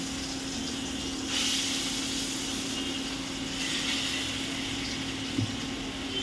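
Fish frying in oil in an iron wok set on an induction cooker, giving a steady broad hiss with a low electrical hum beneath, swelling slightly a few times and continuing without pause.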